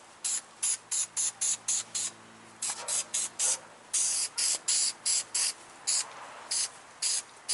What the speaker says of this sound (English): we got to spray down here